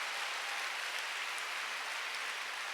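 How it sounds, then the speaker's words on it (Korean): A church congregation claps during a Sunday worship service. The applause is dense and steady, a broad wash that stays fairly even from start to end, with no speech over it. "박수 세게 치세요"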